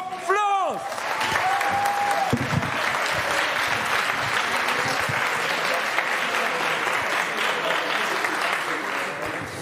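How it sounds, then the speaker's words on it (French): Sustained applause from a crowd at a robotics competition final, loud and even, following a brief rising whistle-like tone at the start. "Attendez un applaudissement pour Florence."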